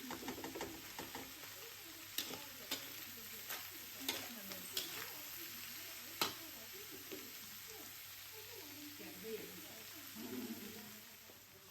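Long beans stir-frying in a pan for popiah filling, a soft sizzle under irregular spatula clacks and scrapes, fairly quiet, with faint murmuring voices in the background.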